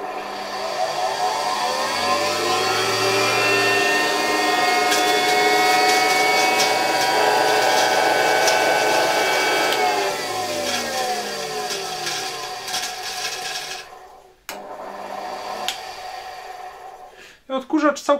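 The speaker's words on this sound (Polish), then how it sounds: "Odkurzacz całkiem fajnie ruszył, tam słychać jakieś chrobotanie" A 1966 Alfa K2 vacuum cleaner with an SK-5b motor runs up with a steady whine and some grinding, then spins down and stops with a few clicks near the end.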